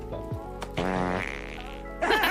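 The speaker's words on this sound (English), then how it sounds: "you had to throw a fart in there as well" A short, buzzy fart sound effect plays in two bursts, a brief sputter followed by a longer rasp, clear and close with no talk.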